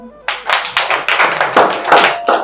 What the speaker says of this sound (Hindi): अपनी ताली बजाओ